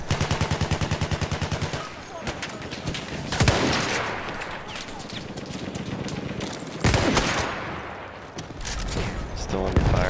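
Battlefield 1 multiplayer firefight with sustained rapid machine-gun bursts at the start, then scattered shots and booms. Players talk over the loud, dense gunfire throughout.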